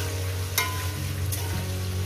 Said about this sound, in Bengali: 3-4 মিনিট আমি ভেজে নেবো আলু